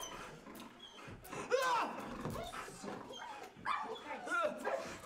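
A dog barks and yips in a few sharp, close bursts amid background noise, with people talking loudly over it.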